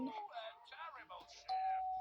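A doorbell rings in the horror video game School Boy Runaway, one steady tone near the end, sounding under a person talking throughout.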